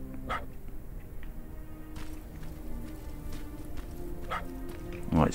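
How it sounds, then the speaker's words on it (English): Dog barking in the Terminator Resistance video game, a few short barks spaced through a warehouse scene with ambient game noise, the last bark loudest and closest. "Right, it's barking."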